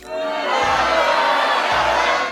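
A crowd jeers in a loud, sustained booing roar that swells in quickly and holds steady for a couple of seconds before cutting off.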